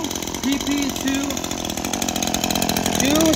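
An Echo PP2 262 X series chainsaw running steadily nearby, a loud, buzzing two-stroke engine drone that holds constant and rises slightly in pitch toward the end, with a voice talking over it.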